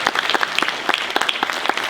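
Audience applause at the first edition of a social film festival, honoring a filmmaker's film: a dense patter of many hands clapping close by, steady and lively throughout with no talk over it.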